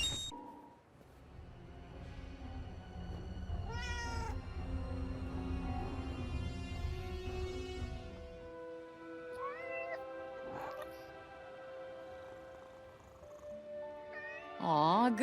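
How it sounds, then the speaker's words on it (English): A house cat in the video game Forspoken meows several times in rising, wavering cries, close and clear, over a soft game music and ambient backdrop, with a final louder meow at the end. "Even in the break, you can pet the kitty."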